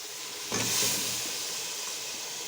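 Chicken dropped into a hot pot for frying: a sudden loud sizzle bursts up, then settles into a steady, hissing fry with no voices.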